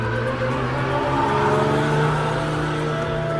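A Porsche flat-six race car in the Open GT class of the Porsche Sports Cup Suisse at the Red Bull Ring gives a loud, steady, close engine drone with a strong buzzing tone, continuous for the whole stretch and without talk.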